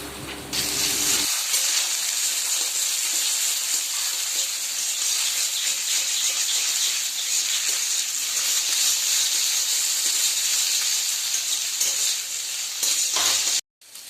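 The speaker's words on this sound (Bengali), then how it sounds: "আলু ডিম দিয়ে ভাজা করছি।" Potatoes and eggs fry in a pan with a steady, loud sizzling hiss that runs nearly unbroken for the whole stretch, then cuts off abruptly near the end.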